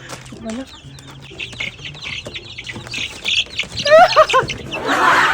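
Young chicks, once brightly dyed and now growing out of their color, peeping and cheeping close by in short high chirps, with some clucking and a few louder squawks near the end; no one speaks.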